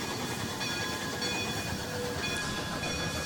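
Train running in a Roblox train game, a steady, moderately quiet rolling rumble with faint high whining tones and light rhythmic clatter.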